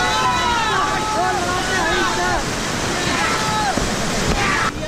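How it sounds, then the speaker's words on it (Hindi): White-water river rapids rush and roar continuously during rafting in Rishikesh, with wind buffeting and rafters' voices and shouts over the churning water throughout. "इस रैपिड का नाम है डबल ट्रबल।"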